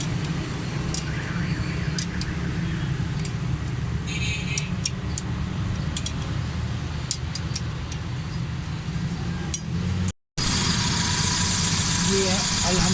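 A Suzuki Alto 1000cc idles steadily after a carburetor repair, a continuous low engine hum with faint rattles and ticks, close by and loud; the sound cuts out briefly near the end, then resumes.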